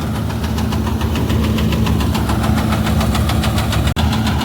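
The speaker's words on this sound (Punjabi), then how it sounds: "ਟਰੈਕਟਰ ਲੱਗੇ ਨੇ ਕੱਢਣ" A Swaraj 855 tractor powering a straw machine runs loud and close, its engine holding a steady, heavy knocking drone with one brief dropout near the end.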